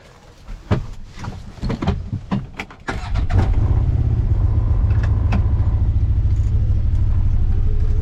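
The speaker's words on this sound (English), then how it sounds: "Probably wouldn't have had to even start the engine on this." A vehicle on a firewood-splitting job starts: a few seconds of clatter and knocks, then the engine catches and settles into a loud, steady idle rumble that runs to the end, close by and without talk.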